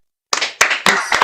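A church youth-conference congregation claps in a few short, sharp bursts of handclaps after a brief silence, close and lively, with no talking over it.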